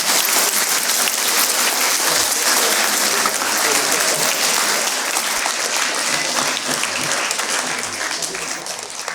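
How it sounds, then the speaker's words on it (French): After a mock courtroom trial staged by students, the room erupts in dense, continuous applause that holds strong for about nine seconds before easing slightly at the end. "Bravo, vous pouvez les applaudir."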